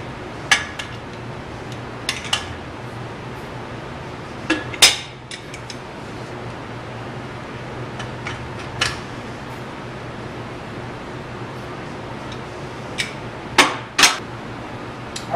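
Parallel-sided wrenches turning a gas valve fitting into position: scattered sharp metallic clinks and taps, a few louder knocks, spaced irregularly over a steady low room hum.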